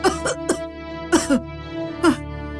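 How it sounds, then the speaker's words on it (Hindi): A woman coughs several times, with harsh, separate bursts: two early, a close pair in the middle and one more at the end, each with a strained, voiced edge, and no other talking. "माँ, क्या हुआ आपको माँ? इतना खांस क्यों रही हो?"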